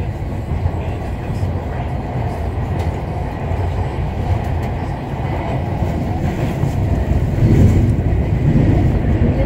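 A MARTA Gold Line metro train runs steadily between stations, a continuous loud rumble and rattle of the rail car heard from inside, with faint voices in the cabin.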